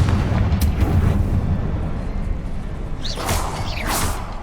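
Confringo fire spell blasts in the Hogwarts Legacy video game, a rumbling fiery roar with a couple of sharp whooshing bursts near the end, loud and close.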